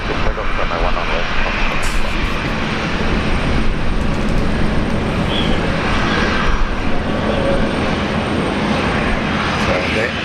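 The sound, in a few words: aircraft taking off from runway 19 left, Brisbane Airport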